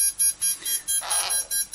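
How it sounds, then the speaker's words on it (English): Repetitive high-pitched electronic beeping from radio-control equipment while binding a satellite receiver, a steady pulsing pattern of about eight beeps in under two seconds, with a brief hiss partway through. "I know the beeping's a noise in the back"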